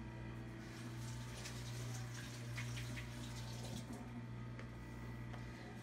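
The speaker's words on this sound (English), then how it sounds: "I'm going to wash this cocoa off my hands real quick." Kitchen tap running steadily into a sink while cocoa is washed off hands, a constant close splashing stream with faint spatters and no talk.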